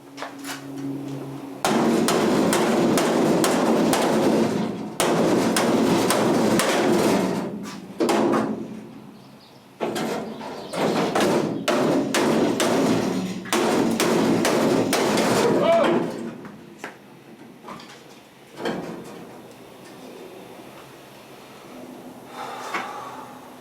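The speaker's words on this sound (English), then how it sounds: "Now I'm going to knock the rest of it loose." A boat's heelboard being hammered loose, with loud, sharp bursts of rapid blows in several clusters and brief pauses between them, then quieter knocking and handling toward the end.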